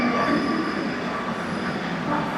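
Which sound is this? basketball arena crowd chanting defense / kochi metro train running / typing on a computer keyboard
kochi metro train running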